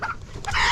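Native chicken clucking in short bursts close by, a couple of brief calls at the start and a louder, sustained call toward the end, with no talking.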